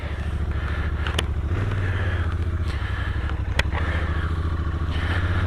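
A Royal Enfield Continental GT 650 twin motorcycle on the road, a steady loud parallel-twin engine drone with wind rush and a couple of brief clatters, heard close from the rider's position.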